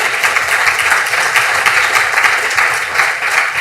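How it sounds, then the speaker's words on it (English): A loud, close burst of audience clapping at an accounting alumni conference and CPD event at ATU Sligo, thick and continuous for a few seconds with no speech on top. "Give him a round of applause."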